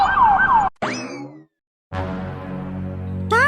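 A cartoon ambulance siren wails in rising and falling sweeps, breaks off into a short silence, then resumes with a lower tonal drone and a fresh rising wail at the end.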